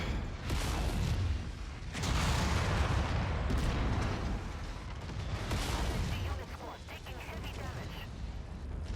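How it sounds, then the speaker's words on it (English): AC-20 autocannon burst fire in a mech combat game: heavy, booming rounds pound in rolling bursts amid dense rumbling battle noise, loud and sustained across the stretch. "There's the AC-20 burst fire"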